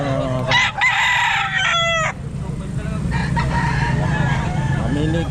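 Chickens cluck and a rooster crows loudly up close, several sharp calls in the first couple of seconds, then a busy background of fowl noise at an outdoor pet market.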